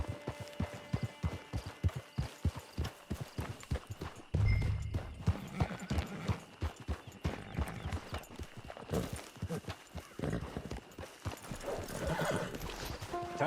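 A horse in the video game Red Dead Redemption 2 clops along steadily on hooves, then gives a whinny partway through, with the rhythmic hoofbeats continuing under game ambience.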